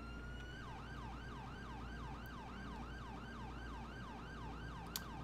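A Durastar ambulance siren in the video game GTA 5 wails in a fast, regular rising-and-falling cycle, moderately loud and steady over a low engine rumble, with no voices.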